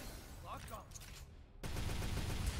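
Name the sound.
rocket launcher firing in the video game Devil May Cry 5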